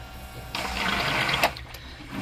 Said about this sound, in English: Make sure our high water pump works.